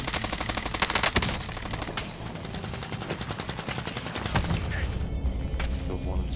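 Rapid bursts of automatic gunfire from an enemy player in the Warzone shooter game crackle almost continuously, loud and dense, with several sharp individual shots standing out amid the fusillade.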